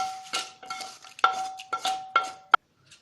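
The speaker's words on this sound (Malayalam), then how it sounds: "ഇനി നമുക്ക് താളിച്ച് വെച്ചതും കൂടെ ഇതിൻ്റെ കൂടെ ചേർത്ത് കൊടുക്കാം." A spoon stirs tempering into mango pulissery, a Kerala yogurt curry, in a metal pot, giving several short scraping clinks with ringing metallic tones, close and clear, over about three seconds.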